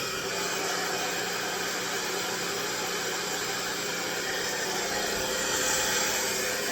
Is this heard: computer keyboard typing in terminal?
no